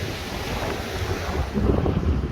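Wind blowing across a pebble beach with surf rolling in, a steady loud rush of gusts and waves, swelling stronger toward the end, no voices.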